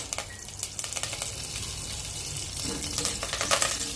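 Curry leaves and chillies frying in hot oil for a pumpkin sabzi, a close, crackling sizzle with a few stirring scrapes, growing busier and louder toward the end, with no voice.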